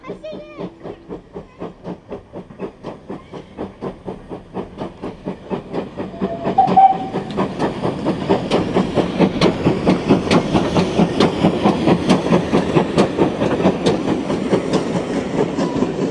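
A steam locomotive near a beach at Blue Anchor chugs in a steady rhythm, building louder and hissing as it passes close by, with a brief whistle and voices in the background.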